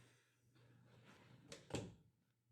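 A newly installed slab door is opened and closed, giving a faint soft swing followed by a sharper latch thud near the end, heard alone in a quiet room.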